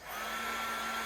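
A heat tool blows a steady, even rush of air over stool seat upholstery fabric, starting abruptly and holding constant for about a second with a faint tonal hum underneath; no talking.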